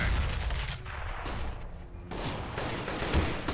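Rapid gunfire and explosive bursts ring out in Counter-Strike, a dense crackling volley with a boom as a grenade is shot out of the air, continuous and fairly quiet throughout.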